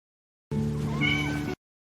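A single short, close meow from a small kitten, clear and alone against silence.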